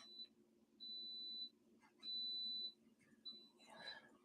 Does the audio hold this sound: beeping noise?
yes